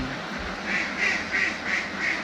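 Ducks quack in a run of about five nasal calls, fairly evenly spaced, over a steady background of farmyard noise.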